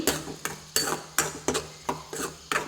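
Tomatoes cook in a pan for rasam while a spatula scrapes and stirs in a steady rhythm, about seven close metallic strokes under a faint sizzle, with no voices.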